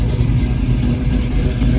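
A 1966 Chevy II Nova SS with a rebuilt 350 V8, cam and Hurst four-speed runs close by with a loud, deep, steady engine rumble and no talk.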